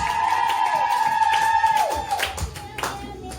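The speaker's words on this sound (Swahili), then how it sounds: "Piga makofi na vigelegele kwa ajili ya Yesu" A church congregation claps steadily while a high trilling ululation rings out above the applause during worship, then the clapping continues more loosely.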